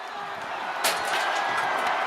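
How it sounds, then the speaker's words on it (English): Wrestling video game crowd from WWE 2K25 during Roman Reigns vs Brock Lesnar, a steady roar of cheering that swells briefly near the midpoint, with a commentator talking over it. "Listen to this crowd."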